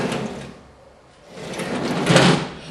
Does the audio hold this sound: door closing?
yes